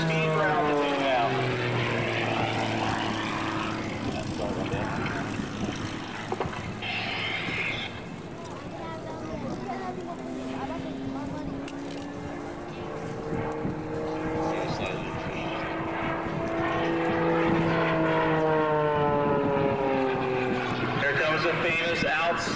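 An aerobatic stunt plane dives straight down through smoke at the 2003 Kern County Airshow, its propeller engine whining and shifting pitch as it swoops, moderately distant, while an announcer talks over it.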